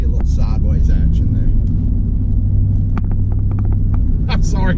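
A Corvette V8 fitted with Speed Engineering headers and an X-pipe rumbles steadily and loudly while driving, a deep continuous drone with a few sharper transients, and a voice talks over it.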